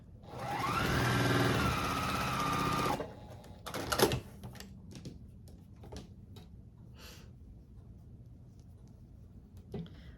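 A sewing machine stitches quilt block seams for an Urban Cabin quilt, running steadily and loud for about three seconds, then stopping, followed by quieter clicks and handling sounds.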